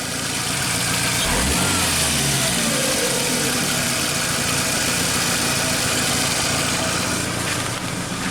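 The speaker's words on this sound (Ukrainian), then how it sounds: "вже є холості обороти" A VAZ 2115 car engine idles steadily after repair, a continuous loud, close rumble with a rough, uneven edge, running alone with no talk.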